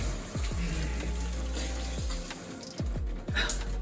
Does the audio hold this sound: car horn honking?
no